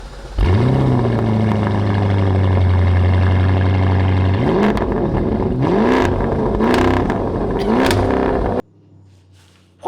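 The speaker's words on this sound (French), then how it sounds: "On se retrouve à démarrer le Cayenne" A Porsche Cayenne fires up with a loud starter whir and settles into a steady, high idle, then blips the throttle a few times in rising revs before the engine cuts off abruptly near the end.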